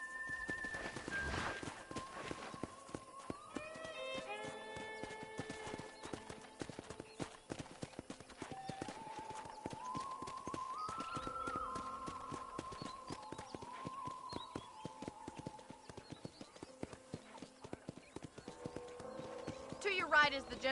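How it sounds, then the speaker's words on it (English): Steady hooves clip-clop from a horse ridden around a ranch in a video game, sustained throughout, with a whinny and tonal music or game sounds layered on top and a voice talking over it. "let's see if you can still ride a horse"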